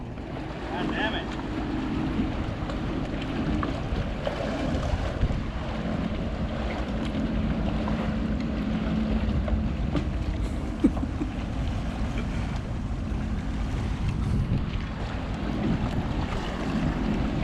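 A Sea-Doo jet ski runs steadily on open water, its engine a continuous low drone mixed with rushing water and wind buffeting the microphone, with no clear break in the noise.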